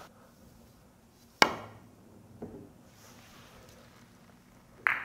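Billiard cue striking the ball on a three-cushion corner shot, one sharp click followed by a fainter ball knock and another crisp click near the end, in a quiet room.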